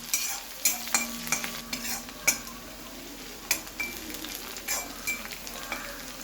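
Garlic and green chilies sauté in a pan for Gujarati spinach curry, with a steady sizzle of oil broken by repeated sharp spatula scrapes and clinks against the metal pan, close and fairly quiet.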